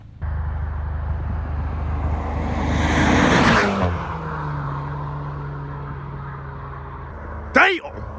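Cars fitted with new aftermarket exhausts on a road flyby: a loud engine roar builds and peaks as a car passes close, then fades into a droning tail, ending with a brief sharp squeal or chirp.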